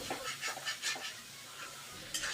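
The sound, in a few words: stirring mutton curry with a spatula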